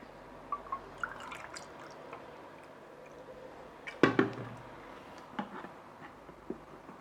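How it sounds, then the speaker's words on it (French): A cup of water poured into a blender, heard as faint drips and splashes, with one brief, louder slosh in the middle and small trickles afterward in a quiet room. "On va ajouter une première cup d'eau."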